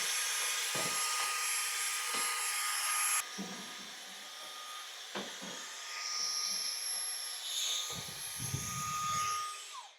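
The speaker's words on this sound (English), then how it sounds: "but vacuum first." A vacuum cleaner runs steadily while cleaning out a greenhouse cabinet, giving a continuous airy whine. Its tone shifts as the nozzle moves, with brief knocks and scrapes against the cabinet along the way.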